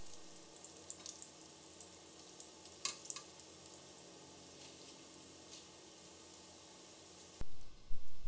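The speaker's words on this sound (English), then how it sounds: "you want to start frying the next batch of the dough" Steady crackling sizzle of balushahi dough frying in hot oil, with scattered pops and a brief louder clatter near the end.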